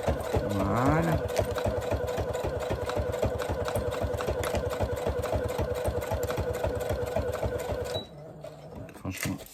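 A sewing machine stitches thick coated fabric for a portable cutlery-holder table mat, running in a fast, steady close-up rhythm for about eight seconds before stopping, with a voice faintly present.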